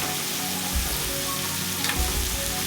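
Okra frying in oil with turmeric powder, stirred in the pan, giving a brief dense close hiss and crackle with a couple of soft low thumps from the spoon, no voices.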